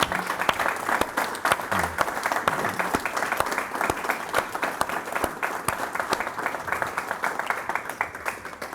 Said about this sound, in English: A round of applause for Dr. Markward, please.